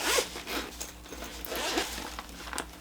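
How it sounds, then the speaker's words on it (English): The zipper on the case of Ohuhu Honolulu series alcohol art markers being pulled open, a close, raspy zipping run in several short strokes with small rustles between, no talking. "let's unzip it and see what's in here"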